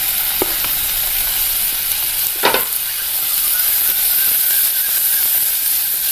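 Garlic and ginger sauté over a medium flame in a pan for a Kerala mackerel curry. A loud, continuous sizzle fills the scene, broken by a couple of sharp scraping stirs of the spatula.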